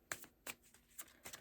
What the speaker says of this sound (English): so now we are going to shuffle.